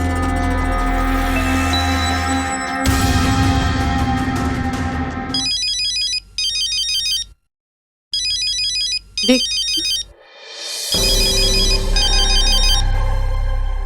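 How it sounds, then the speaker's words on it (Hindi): A phone ringtone rings loudly in repeated melodic bursts over a musical backdrop, breaking off briefly before resuming, with a single spoken word near the start, in a crime drama scene. "फोन उठा फोन"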